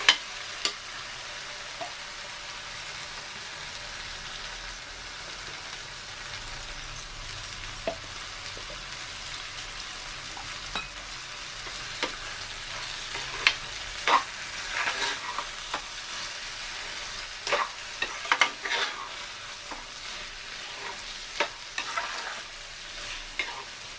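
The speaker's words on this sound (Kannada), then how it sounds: "ಬ್ಯಾಡಗೆ ಮೆಣಸಿನ್ಕಾಯಿ, ಚಕ್ಕೆ, ಲವಂಗ, ಶುಂಠಿ, ಇದು ಹಾಕ್ಕೊಂಡು ಸ್ವಲ್ಪ ಹುರ್ಕೋಬೇಕು" A ground masala paste of Byadgi chilli, cinnamon, clove and ginger fries in a pan, giving a quiet continuous crackle broken by scattered clicks and scrapes of stirring throughout.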